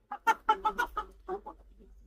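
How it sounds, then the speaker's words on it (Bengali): Five large native chickens kept in a small cage cluck close by, a quick burst of about eight sharp calls that tapers into softer clucks, with no talk over them. "কি মুরগি এগুলো এত বড় বড়? দেখেন মাশাআল্লাহ, কয়টা মুরগি? 5টা মুরগি।"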